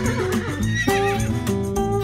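A horse at a rodeo ranch neighs loudly and close, a long wavering whinny with shaky rising and falling tones, standing alone without talk.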